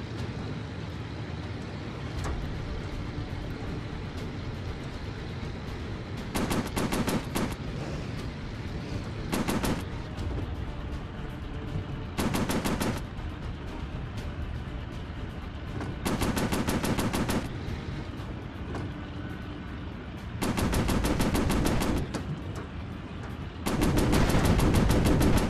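Aircraft machine guns fire in short bursts in a WW2 combat flight game played in VR, several sharp rattling volleys spaced over a constant engine drone.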